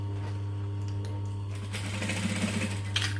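A sewing machine stitches a bag lining with a steady, fast mechanical whirr over a low motor hum, the stitching growing busier and louder toward the end.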